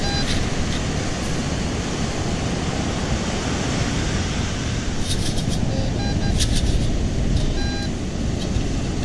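Steady loud roar of surf washing over wet sand at Ponte Vedra Beach, Florida, continuous rushing noise throughout with faint brief electronic beeps from a metal detector near the end.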